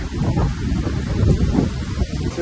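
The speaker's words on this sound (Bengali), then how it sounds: "বৃষ্টি পড়ছে কন্টিনিউয়াস" Continuous monsoon rain falls in hilly Kerala, a steady dense wash with rustling, gusty texture close to the microphone and no talking.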